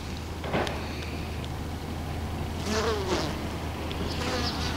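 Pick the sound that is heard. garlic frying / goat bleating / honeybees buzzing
honeybees buzzing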